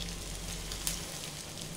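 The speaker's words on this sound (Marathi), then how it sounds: "मीडियम हाय फ्लेम वर हे रोल्स तळून घ्यायचे आहेत" Bread rolls deep-frying in hot oil over a medium-high flame, giving a steady, even sizzle that runs close and continuous with no voices.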